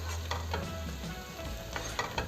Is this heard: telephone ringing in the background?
no